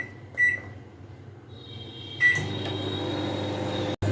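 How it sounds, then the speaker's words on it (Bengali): A microwave oven heating water: two short beeps and a door clunk, then the low steady hum of the running oven with a faint whine, ending in a brief cut. "এবার এটাকে আমি ওভেনের ভেতরে দিয়ে ওভেনটাকে বন্ধ করে এটাকে আমি মাইক্রো মোডে এটাকে আমি 3 মিনিটের জন্য গরম করে নেব।"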